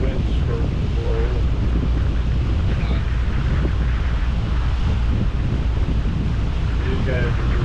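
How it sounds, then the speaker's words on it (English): Strong wind buffets the microphone on a boat running through the Rio Dulce river canyon, a loud constant rushing roar with water and motor noise underneath throughout. "my wind's starting to blow."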